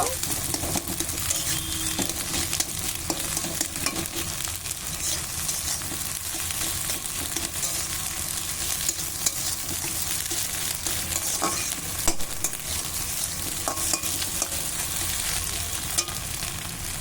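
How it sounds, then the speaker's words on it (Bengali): Radish and egg fry in a pan with a constant loud crackling sizzle, broken by small clicks from stirring, continuing evenly throughout. "একটু ভালো করে ভেজে নেব"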